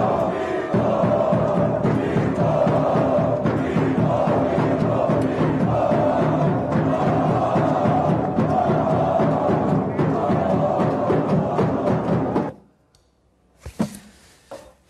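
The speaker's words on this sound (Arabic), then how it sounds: "رابطه جماهير الاهلي الحقيقه اللي حرصت على التشجيع" Al Ahly fan association supporters in Doha cheer and chant loudly and continuously, a dense rhythmic crowd roar that cuts off abruptly near the end, followed by a brief burst of noise.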